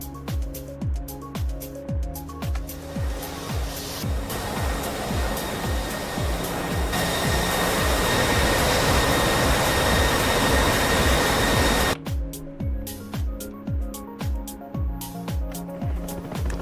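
A jet-powered craft powers up and hovers above a launch pad, a loud sustained jet roar that builds and holds, with rhythmic pulsing thumps before and after the steadiest stretch, no speech.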